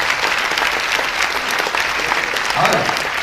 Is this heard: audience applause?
yes